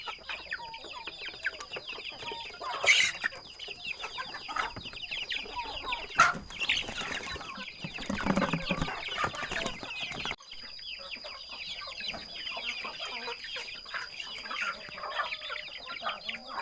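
Fighting cocks recently vaccinated against Newcastle disease cluck and crow continuously at close range, with a few louder calls and brief wing flaps, and no talking.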